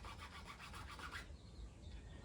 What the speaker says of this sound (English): I need to file this down a little bit and make a little hole right here